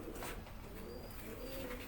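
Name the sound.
pigeons cooing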